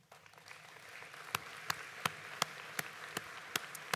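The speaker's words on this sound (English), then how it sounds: "let's acknowledge them with a round of applause" Sparse, scattered claps from a small crowd at a graduation ceremony, a handful of sharp individual hand claps spaced irregularly over a quiet room background.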